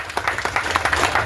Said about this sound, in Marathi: सर्वप्रथम त्याचं एकदा जोरात टाळ्या वाजून स्वागत करूया.